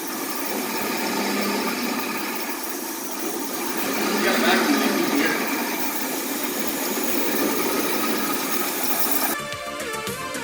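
Pontiac Fiero engine idling during a restoration, a steady continuous mechanical drone with a slight swell midway, close and fairly loud, running alone before an abrupt change near the end.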